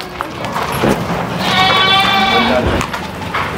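Goats at a goat farm in Kharghar, Navi Mumbai, give a loud, close, wavering bleat that rises over background farm noise partway through.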